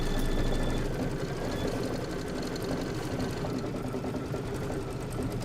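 Embroidery machine stitching a clover quilt block, a steady, close, continuous mechanical hum and rapid needle chatter with no pauses.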